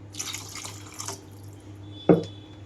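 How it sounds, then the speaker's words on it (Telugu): Water is added to a pot of tamarind and okra stew, a few quiet splashy bursts followed by a sharper single splash, fairly close in a kitchen. "వీటికి తగినట్లుగా వాటర్ అయితే వేస్తున్నాను"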